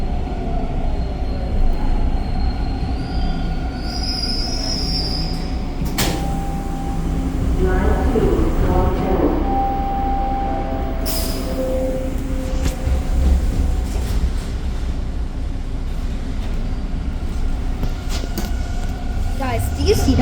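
A TTC subway train pulls into Bloor-Yonge station in Toronto, its loud steady rumble carrying throughout, with brakes squealing and clattering in the middle and voices talking over the noise.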